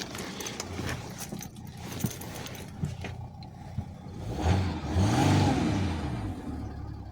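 A Mercedes W204 C320 with the M642 diesel engine idles and then revs up as it pulls away nearby, with some clicks and rattles under the rumble.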